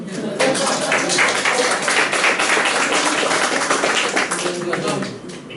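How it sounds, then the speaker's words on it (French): An audience applauds after a French-language public lecture on migrants, producing a dense, continuous wash of clapping that holds steady for about five seconds before easing off. "On peut applaudir."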